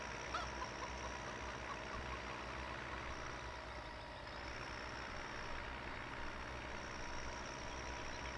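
Tractor engine of an MB-Trac 1800 in the farming game Landwirtschafts-Simulator 15, a steady low droning rumble that holds at a constant level throughout, with no talking over it.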